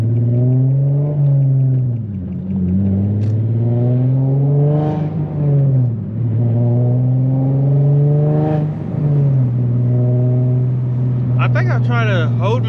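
A tuned Infiniti G37 launches hard under launch control, its engine climbing through several loud rising revs with brief dips at each gearshift, close and dominant, with faint talk late in the run.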